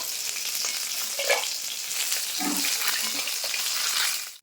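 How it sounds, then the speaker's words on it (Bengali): Fish frying in hot oil in a pan, a steady close sizzle that runs throughout with a few brief bubbling crackles and no voices. "নিচে দিয়ে লাল লাল করে ভেজে নেবো সব মাছ"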